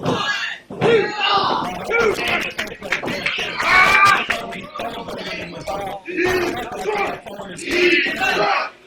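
Detroit wrestling crowd shouting and cheering for wrestler OV8 at an indoor show, loud rising and falling waves of yells and chants close by, with occasional thuds of ring action underneath.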